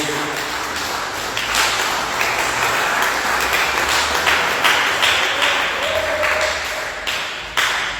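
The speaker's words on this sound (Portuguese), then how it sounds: "dê uma salva de palmas para Jesus" Church congregation clapping together for Jesus after a prayer, a sustained, fairly loud burst of many hands with a few sharper claps and murmuring voices under it.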